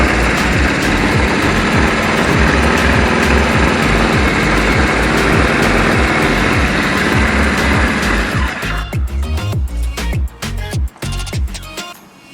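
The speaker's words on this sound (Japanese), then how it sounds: "エンジンもかかったことだし" A Kawasaki KZ1000 motorcycle engine runs after a carburetor rebuild, one cylinder misfiring, with a loud, rough, uneven idle close by for several seconds before it sputters and thins out near the end.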